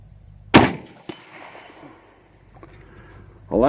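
A single sharp, loud rifle shot from a used Ruger M77 chambered in .270 Winchester, fired outdoors, followed by a fading echo, a smaller knock, and another loud burst at the end.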